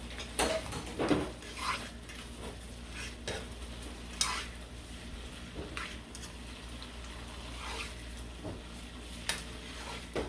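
Onions sizzle in a pan for a seafood boil butter sauce, a constant close frying crackle broken by repeated scrapes and knocks of a utensil stirring them.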